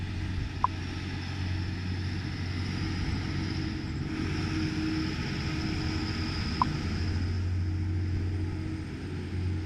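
A noisy lorry passes with a steady low engine rumble throughout, moderately loud, with a couple of brief faint clicks and no voices.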